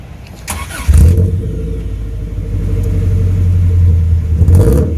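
A 1984 Subaru GL with an Alta R56 mini muffler starts up and is revved, its loud exhaust rumble climbing and holding through several throttle swells close to the microphone.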